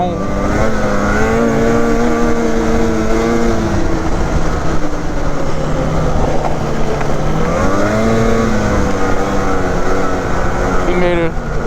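Snowmobiles ride in close pursuit of a 137 Renegade XRS, the follower being a 2021 Polaris Assault 850 146, with a loud steady engine drone whose pitch rises and falls as the throttle changes, alone and continuous throughout.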